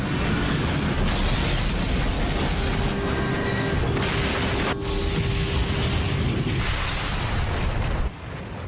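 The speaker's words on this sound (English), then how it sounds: "At 9:16 and 15 seconds, Flight 587 slams into the ground." A dramatized crash of an American Airlines airliner, Flight 587, hitting the ground: a sustained, loud rumbling roar with crashing, rattling debris, steady for about eight seconds before dropping off abruptly at the end.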